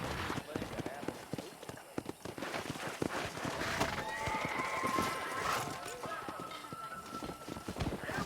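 Galloping horse hooves in the Red Dead Redemption video game, a quick rhythmic clatter running steadily under game music and ambient sound, with a faint whinny.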